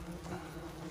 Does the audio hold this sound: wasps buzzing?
yes